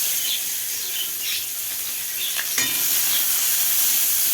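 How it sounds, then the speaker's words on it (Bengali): Nigella seeds and chopped onion hit hot oil left from frying pabda fish, setting off a loud, continuous sizzle that stays dense and even throughout, with a brief sharper crackle partway through and no speech. "ওই তেলের মধ্যেই দিয়ে দিচ্ছি কালো জিরে, দিয়ে দিচ্ছি কুচনো পেঁয়াজ"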